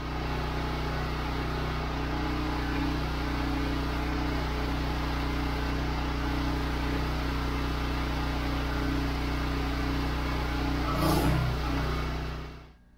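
A consumer-grade, entry-level hydraulic log splitter runs one full cycle from fully retracted to fully extended, giving a steady, loud engine drone with a low hum throughout and a brief clunk near the end before it cuts off.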